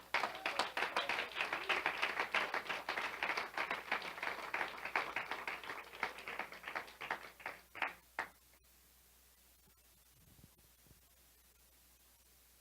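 A church prayer-service congregation claps together in steady applause that lasts about eight seconds, thins out and then stops, leaving near silence with a few faint knocks.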